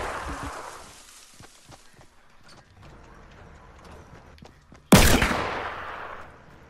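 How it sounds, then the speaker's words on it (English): Fortnite gameplay with faint mechanical clicks and ticks, then one sudden loud gunshot that rings out and fades away. "Yo, Aaron, that's you shooting?"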